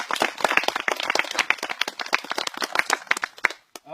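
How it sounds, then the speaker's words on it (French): Audience clapping at an archery club's twentieth anniversary gathering, sharp individual claps from a modest crowd ringing out in an uneven rhythm before trailing off into quiet. "On peut également les applaudir bien fort."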